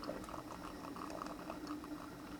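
A Moccamaster drip coffee maker brews, its water boiling and gurgling with a steady bubbling hiss that holds at an even level throughout, close by and with no talking.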